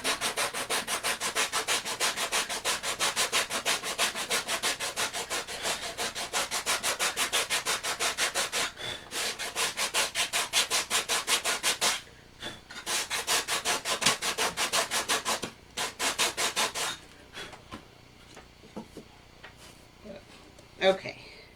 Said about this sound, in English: what I'm using is just a sanding sponge and a 120 grit sandpaper